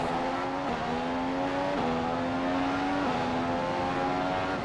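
An F1 car in the F1 2015 racing game at the Italian Grand Prix at Monza, with a loud, steady engine note that drops sharply in pitch several times as the car brakes and downshifts. No one talks.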